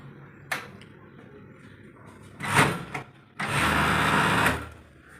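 Sewing machine joining T-shirt shoulder seams in a stitching unit, a few brief clicks and a short whir, then a steady loud stitching run of about a second, close by with no talk.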